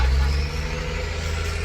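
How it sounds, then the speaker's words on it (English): Steady rumble of passing road traffic, engines droning close by with a low, continuous roar and no talking. "Sorry about that noise. I live on a busy street."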